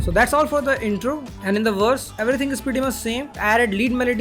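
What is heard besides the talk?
None of the usual background noises is heard.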